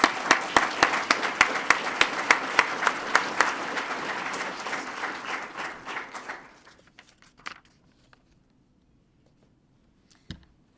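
Audience applause at a police swearing-in ceremony, a steady round of many rhythmic claps that fades out after six seconds, leaving a quiet room with a few faint shuffles and knocks.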